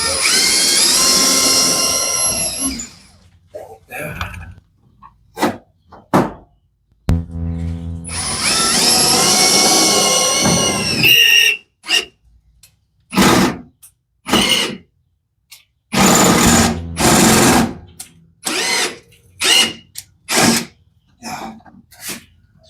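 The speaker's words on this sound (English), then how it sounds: "I'll drill it down there. I'm gonna drill it up here." A power drill whirs in two long sustained bursts, then stops and starts in a string of short, sharp spurts, close and loud.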